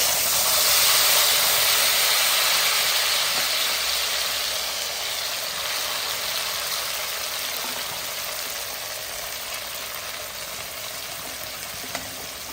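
Coriander chutney mix sizzles loudly in a hot tempering of mustard seeds, a dense steady hiss that starts strong and slowly fades a little over time, with no talking.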